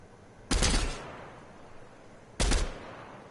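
Two separate bursts of video game gunfire, each a loud, sharp volley lasting about half a second, with a quiet gap between them.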